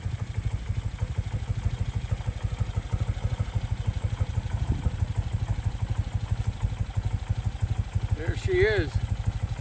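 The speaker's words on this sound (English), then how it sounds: "Look how nice that bike idles." A 1975 BMW R75/6 motorcycle idles steadily with an even, rapid low thumping pulse that holds throughout, close and moderately loud, while someone speaks briefly near the end.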